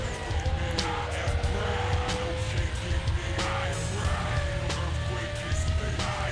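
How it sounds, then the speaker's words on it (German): A Porsche Carrera GT's engine in NFS Most Wanted roars steadily at high revs throughout, with tonal whine shifting slightly, loud and continuous under game noise. "Der Wagen ist halt super, der Porsche Carrera GT."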